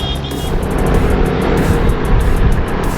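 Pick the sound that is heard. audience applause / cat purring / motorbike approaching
motorbike approaching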